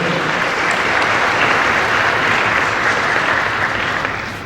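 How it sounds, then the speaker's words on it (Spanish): An audience at a Buenos Aires book fair event marking Paraguay's day applauds steadily, loud sustained clapping from a large crowd that fades slightly at the end. "un aplauso para él, por favor"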